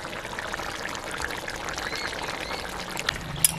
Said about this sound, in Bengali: এবার একটু গরম মশলার গুঁড়ো দিয়ে দিচ্ছি, আর দেবো সামান্য একটু ঘি।